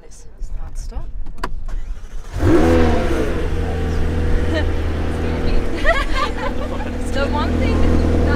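Clicks and small mechanical sounds, then a McLaren engine cranks and bursts into a loud rumbling idle with a rising rev, while voices murmur nearby.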